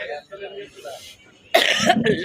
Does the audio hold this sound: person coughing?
yes